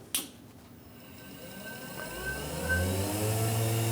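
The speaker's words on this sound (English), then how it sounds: "I can just turn that on, power up the grinder." A lathe tool post grinder on a 48 volt supply clicks on and spins up, its motor whine rising steadily in pitch and loudness, then running at a constant hum.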